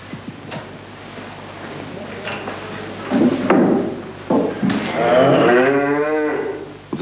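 Cattle moo loudly in a barn, several deep, drawn-out calls building toward a long, strained low over faint clanks and background noise.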